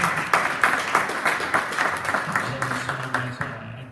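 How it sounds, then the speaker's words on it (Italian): A small audience at a political event in Pordenone claps briefly, with distinct individual hand claps over a murmuring room and some low voices underneath. "Grazie dell'applauso."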